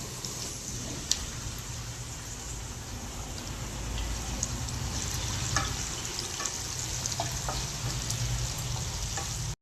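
Tamarind paste hitting a hot tempering with curry leaves for temple-style pulihora, a loud continuous sizzle and crackle that swells slightly midway, with faint stirring ticks and no voices.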